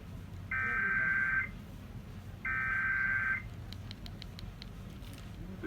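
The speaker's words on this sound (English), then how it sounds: "I have an EAS on my phone." An emergency alert system tone sounding from a phone, two loud steady electronic blasts of about a second each with a gap between, followed by faint clicking over background hiss.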